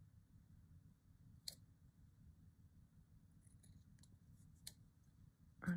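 Scissors snip a small square of fabric for slow stitching on a garden-themed embroidery piece, giving a couple of faint, sharp cuts spread over quiet room tone.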